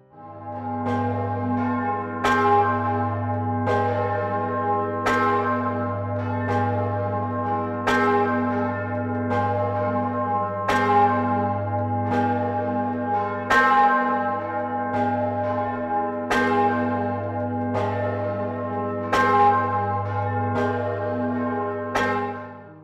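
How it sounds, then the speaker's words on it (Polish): The medieval Tuba Dei church bell rings out alone in a steady, regular rhythm, each loud, clear strike blooming over a sustained low hum that carries from one stroke into the next for more than twenty seconds. "Po dziś dzień dzwoni on pięknym, czystym dźwiękiem"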